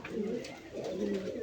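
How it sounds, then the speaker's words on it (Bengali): A pair of red checker racer pigeons at a farm coos in two low, throaty rolling phrases, close and steady against a faint background hiss. "এখানে এক জোড়া কবুতর আছে"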